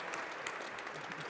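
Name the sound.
audience applause at IMF seminar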